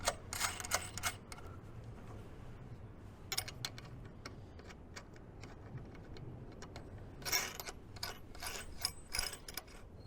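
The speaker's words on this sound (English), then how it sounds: "Using our wrench and our 9/16 socket, or 2 wrenches if that's all you have, we're going to tighten that bracket right up." Bracket nuts on a treadle hammer kit tightened with a ratchet wrench and 9/16 socket, giving quick bursts of clicking ratchet pawl sounds separated by pauses, close and fairly quiet with no talking.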